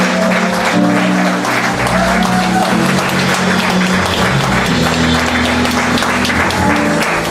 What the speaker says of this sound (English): Give a clap offering for God